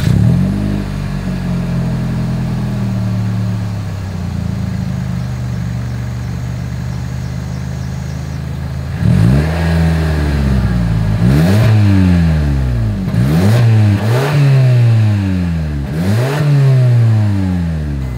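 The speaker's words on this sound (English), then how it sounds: "As always, here is that exhaust clip." A 2023 Toyota Camry TRD idles with a steady exhaust burble, then a series of four or five sharp throttle blips swells and falls back. The exhaust is loud and close, with no voices.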